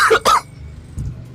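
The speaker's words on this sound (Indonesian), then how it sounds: "Ya batuk. Batuk." A single sharp double cough sounds close to the mic, loud and quick, followed by a faint low rumble.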